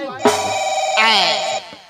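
Mobile phone ringtone ringing loudly and close for a couple of seconds, a bright electronic tone that shifts pitch partway through.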